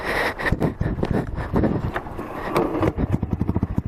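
A motorcycle engine, a 2015 Yamaha R3 or 1986 Suzuki Savage, revs hard as the rider pulls away, loud and close with rapid pulsing firing strokes and wind buffeting the microphone.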